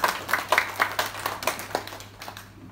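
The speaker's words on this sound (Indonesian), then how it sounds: "Tepuk tangan buat LPM Gunung Panjang." Audience applause at an anniversary celebration for a neighbourhood community organisation in Berau, East Kalimantan: a few seconds of scattered hand clapping in uneven bursts, fairly close, fading out toward the end.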